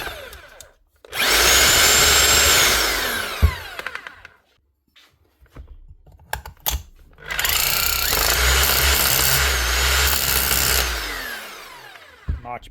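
A repaired Bosch hammer drill runs in two loud, sustained bursts with a rapid hammering rattle, separated by a few seconds of near silence and short clicks.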